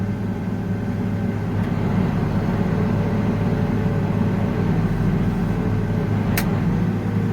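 A tractor engine strains while unfolding a wide farm implement, a steady loud low drone with a faint whine that holds throughout.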